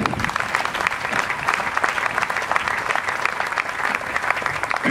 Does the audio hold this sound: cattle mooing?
no